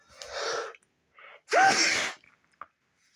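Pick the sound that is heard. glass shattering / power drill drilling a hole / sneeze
sneeze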